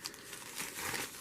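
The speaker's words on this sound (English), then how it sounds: "They just peel off all these layers and crumple it up until they have all this sparkly stuff" Thin mica sheets crumple and crinkle in a soft, continuous rustle, faint and close, with no talking.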